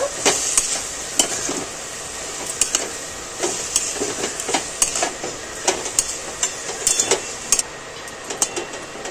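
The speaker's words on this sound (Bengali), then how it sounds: "ভালো করে নাড়াচাড়া দিয়ে মিশিয়ে নেব।" Masala and water get stirred in a pan, the spoon scraping and clinking against the metal in a quick, irregular series of sharp strokes over a soft wet background.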